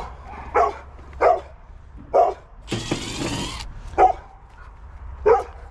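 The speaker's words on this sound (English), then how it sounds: "I hope he's not barking the whole time." A dog barks in five sharp, evenly spaced bursts at a house during a no-cooling air conditioner service call, broken midway by a brief rough hiss of air.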